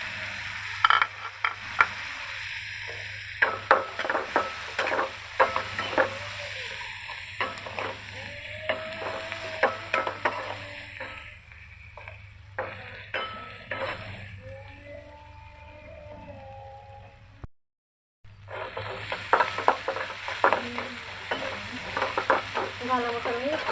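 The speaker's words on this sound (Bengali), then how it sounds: "ভালো মতো আমি পেঁয়াজটা মশলাটা ভেজে নেব" Onion and spices fry and sizzle steadily in a pan while being stirred, with repeated scraping strokes close by, a brief dropout near the end, then sizzling resumes.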